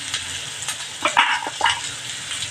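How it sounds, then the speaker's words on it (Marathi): Spiced potato filling for mirchi vada being sautéed in a pan, with a soft sizzle and a few scraping stirs of a spoon across the pan in short bursts, close and fairly quiet. "मी हे परतून घेणार आहे त्यावर थोडी हळद घालणार आहे"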